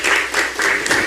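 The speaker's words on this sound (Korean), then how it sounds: "박수 한번 부탁드립니다." Close, loud clapping from attendees at a Korean party Supreme Council meeting. The ovation swells and eases in a few waves, with no voices over it.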